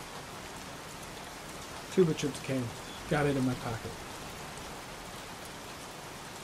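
Steady hiss of rainfall throughout in the video game Heavy Rain, with a voice speaking briefly over it in the middle.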